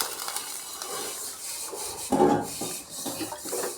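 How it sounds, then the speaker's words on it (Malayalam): A spoon stirs moru curry, a yogurt curry of yogurt thinned with water, in a pan on the stove: steady soft rubbing and scraping with a louder scrape just past the midpoint, close by, with no talking. "ഒരു രണ്ട് സെക്കൻഡ് നമുക്ക് ഒന്ന് ഇളക്കി കൊടുക്കാം"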